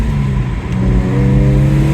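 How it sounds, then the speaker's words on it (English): A Jaguar XE S AWD accelerates hard, its exhaust droning loud and close with steady rising harmonics, a brief dip in the middle before the pull resumes. "Listen to that exhaust tone."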